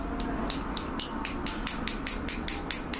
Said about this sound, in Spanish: Vamos a batir un poco